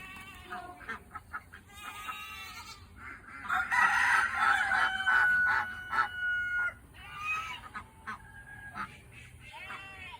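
Call ducks quacking and calling across a farm property, mixed with other poultry such as geese and chickens, a busy run of honks and squawks at moderate distance.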